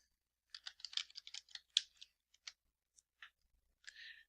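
Keys on a computer keyboard are tapped in a quick burst of close, crisp clicks, followed by a few scattered single presses against near silence.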